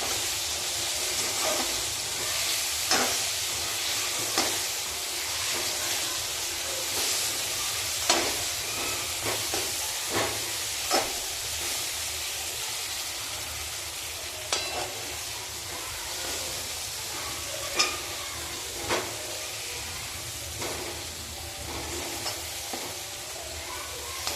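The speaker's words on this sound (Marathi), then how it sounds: "आपण हे चांगले परतून घेऊ आता" Eggplant sautéing in a pan for a village-style curry, with a steady close sizzle and hiss punctuated by occasional spoon scrapes and stirring knocks.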